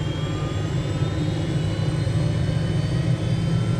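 A helicopter's turbine spools up in Microsoft Flight Simulator 2020, a steady low rumble under rising whining tones that climb slowly in pitch, continuous and fairly loud with no talk.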